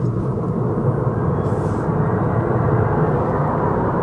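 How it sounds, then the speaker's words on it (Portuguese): An airplane passes overhead outdoors, a steady, loud broadband roar that holds evenly throughout, with no talk over it. "É um avião?"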